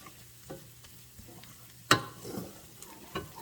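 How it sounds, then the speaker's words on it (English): Freshly minced garlic sizzling in a pan for cauliflower pasta, a soft low frying hiss marked by sporadic stirring taps and one sharp knock of utensil against pan. "here's my garlic. I just minced it, chopped it, and then just going to let that go for a minute."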